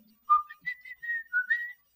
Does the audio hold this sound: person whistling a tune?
yes